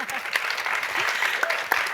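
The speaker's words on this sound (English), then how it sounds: "let's give them another round of applause for sharing their art with us" An audience applauds after a poetry reading, clapping at moderate volume with a few sharper claps and some voices mixed in beneath it.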